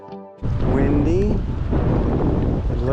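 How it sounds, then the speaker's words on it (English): Strong wind buffets the microphone at the edge of a cold pond while camping in the Adirondacks, a loud continuous rumbling roar from close by, with a voice briefly heard under it. "Very windy right now."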